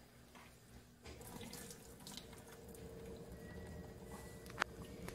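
Water streams and trickles out as grated papaya is twisted and wrung by hand, starting after a short pause and running steadily with a brief squeeze sound near the end.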